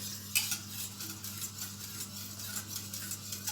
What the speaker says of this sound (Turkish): Evet bu şekilde karıştırarak pişiriyoruz. Evet çikolata sosumuz da oldu.